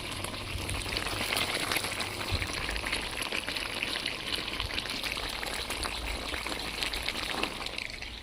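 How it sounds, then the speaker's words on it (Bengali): Water being poured into a pot of browned chicken pieces for chicken biryani, a steady hissing, bubbling splash that sizzles on the hot pan throughout, with no talking. "এবার একটু অল্প করে জল দিয়ে দেবে সিদ্ধর জন্য"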